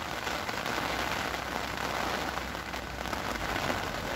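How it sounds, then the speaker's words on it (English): Steady rain falls outdoors, a dense, even hiss of drops pattering on surfaces that continues unbroken, with no voices heard. "And the rain's come down."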